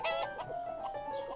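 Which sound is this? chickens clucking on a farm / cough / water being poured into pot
chickens clucking on a farm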